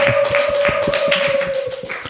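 Audience applause rings out at a press conference in London, a steady patter of claps over about two seconds alongside a constant sustained tone, fading slightly at the end.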